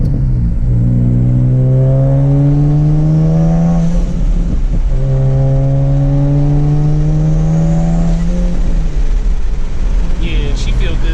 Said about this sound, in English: this car sounds so good, bro